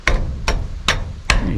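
Four sharp hammer strikes ring out at an even, unhurried pace, each a crisp metallic whack close by with no voices.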